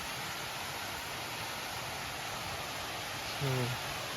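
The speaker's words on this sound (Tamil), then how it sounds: "ஃபால்ஸ் சத்தம் கேட்குதா" Maasilla waterfall in the Kolli hills gives a faint, steady hiss of falling water, constant throughout, with a brief voice near the end.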